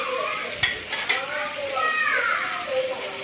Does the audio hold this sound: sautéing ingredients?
yes